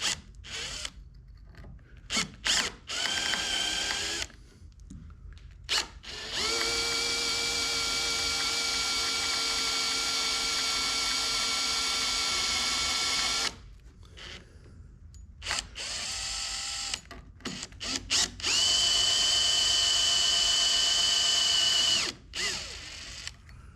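Power drill boring into a Hobie 16 catamaran hull for a broken gudgeon screw repair, running in several sustained whining bursts of rising and steady pitch with short pauses and clicks between them, loud and close.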